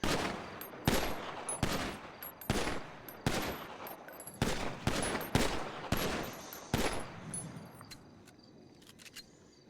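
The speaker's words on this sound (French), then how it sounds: "on tire à balles réelles, hein." Live rounds are fired at shooting targets in a rapid run of about nine loud, sharp reports at close range, each followed by a short ringing tail, and then everything goes quiet.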